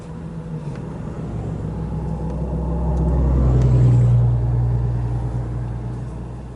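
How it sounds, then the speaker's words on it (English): Cars in a slow traffic jam on a small-town road in Hastings, Florida, heard as a steady low engine rumble from inside a vehicle that swells in the middle and then eases off, with no talking. "And this is our traffic jam for today."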